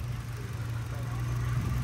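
A 2013 Toyota Innova E family car idles steadily with a low, even engine hum, close and continuous throughout with no revving.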